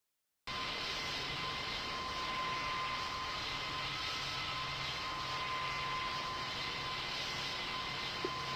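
A fixed-wing airplane on its takeoff run, a continuous loud engine roar and whine heard from nearby, holding steady throughout with no talking.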